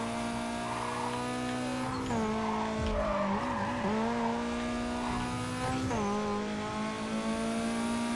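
Car in NFS Carbon skidding through corners under brake and handbrake, a loud tire squeal with a droning engine that dips and recovers as the car rotates, no speech.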